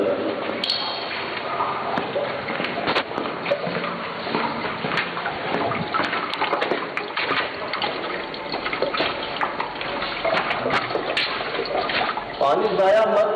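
Running water pours steadily, with splashes and a gushing flow throughout, loud and close.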